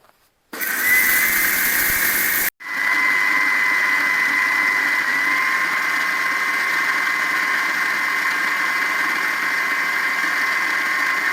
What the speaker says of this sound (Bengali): আমি মিক্সির মধ্যে চালটা বেটে নেব।